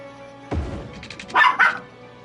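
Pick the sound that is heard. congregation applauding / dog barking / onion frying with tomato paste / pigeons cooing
dog barking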